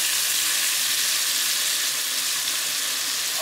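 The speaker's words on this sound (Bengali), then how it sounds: "আমার রান্নার এই অবস্থা, আমি টমেটো ছেড়ে দিচ্ছি" Tomatoes fry in a pan during a home family morning's cooking, giving off a steady, bright sizzle that stays loud and even throughout, with no talking.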